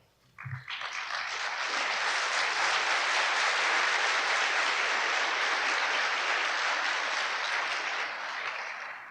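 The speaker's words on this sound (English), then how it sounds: "you can applaud them." Audience applause at a 1974 Judd Urban Forum public lecture, clapping swelling quickly into a steady, dense roar of many hands that holds for several seconds, then eases slightly at the end.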